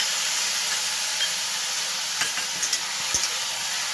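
Spices stirred into frying vegetables in a pan for egg noodles make a continuous hissing sizzle, with a few sharp spatula scrapes and taps toward the end, no one speaking.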